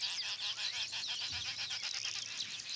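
A colony of weaver birds at their nests, noisy and busy: dense, overlapping shrill chattering and rapid squeaky calls go on without a break, loud and close.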